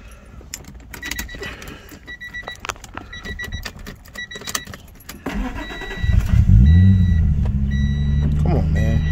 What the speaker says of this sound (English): Can you ask for a better startup? She's cold, but she's going to open up.